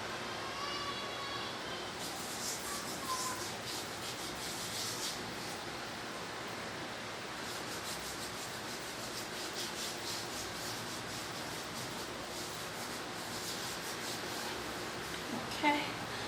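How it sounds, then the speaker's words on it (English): Skin on the legs and heels being scrubbed, a soft continuous rasping and rubbing at close range, low in level and steady throughout with only a brief bump near the end. "I'm going to be scrubbing all of my legs too"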